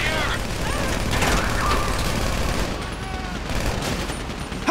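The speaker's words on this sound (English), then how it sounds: "You hear that gunfire?" Sustained gunfire in the video game GTA V during a bank robbery shootout, a dense continuous rattle of shots running throughout without a pause.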